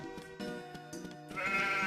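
Sheep bleating in the farm game Harvest Moon: Magical Melody, a couple of short, wavering cartoonish bleats over a light musical background.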